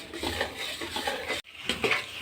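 Flour roasting in a pan for adadiya, with cashews, almonds and jaggery mixed in, is stirred with a utensil, giving a soft continuous scraping and shuffling sound close by, broken by one brief pause.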